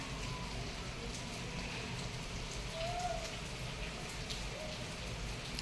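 Steady rain falls continuously, a soft, even patter with a faint tone drifting through once.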